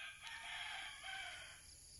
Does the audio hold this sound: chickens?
yes